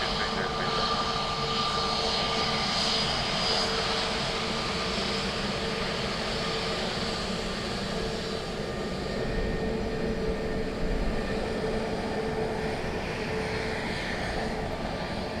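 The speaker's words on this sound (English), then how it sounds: "A 330 from Denver." An Airbus A330 in from Denver roars steadily at Dublin Airport, a loud continuous jet-engine drone that holds throughout with no pauses.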